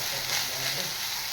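Radish leaves sauté in gram flour and a spiced tempering in a pan, giving a steady, soft sizzle and faint stirring throughout.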